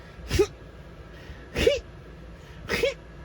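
A voice imitates a sneeze three times, each a sharp breathy burst with a rising squeak at the end, spaced evenly about a second apart.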